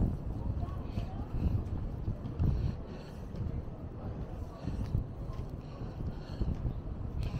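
Gusty wind buffets the microphone on a cold New York City street, a steady low rumble with stronger surges throughout.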